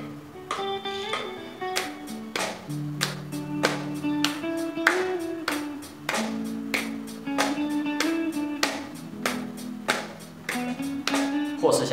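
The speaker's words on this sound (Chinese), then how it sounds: "跟着音乐，跟着节奏一起去拍手" Hands clap in a steady, even beat along with backing music for a rhythm exercise, each clap sharp and clear over the sustained melody and bass throughout.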